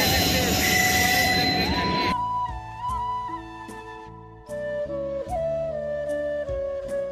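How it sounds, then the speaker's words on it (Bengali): A train passes a roadside viewpoint near Chalsa, starting with a loud rushing roar that gives way to sustained metallic wheel squeals and tonal screeches of varying pitch. "তো যাচ্ছে ট্রেনটা।"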